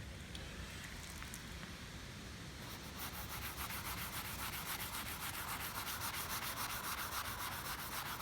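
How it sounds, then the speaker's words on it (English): Steady hand wet sanding of car paint with soapy water, a soft continuous scratchy hiss with quick regular strokes at medium pressure, close by. "You can even use soapy water, as it helps glide along the sandpaper when you're sanding"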